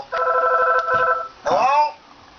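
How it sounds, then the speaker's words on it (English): A telephone rings on a television game show set, two steady ringing bursts followed by a brief sweeping tone, loud and close with no talk over it. "I got a phone call."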